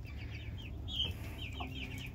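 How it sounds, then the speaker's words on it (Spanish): Soft, repeated clucking from chickens in a quiet outdoor space, low murmuring calls rising and falling over a faint background hum. "allá está el mapuche, el gallo mapuche, el gallo colorado"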